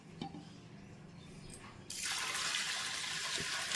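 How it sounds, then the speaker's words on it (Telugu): Water poured into washed rice and dal in a pressure cooker for sweet pongal runs as a steady, close splashing stream that starts abruptly halfway through and continues to the end, after a few soft clinks. "ఇప్పుడు ఇందులో మనం వాటర్ పోసామండి."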